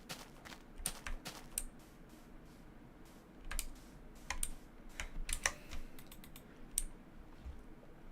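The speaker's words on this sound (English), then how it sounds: "Unless you're referring to my keyboard tapping" Keys clatter on a computer keyboard in quick, uneven bursts of light clicks with short pauses between them, close and fairly quiet.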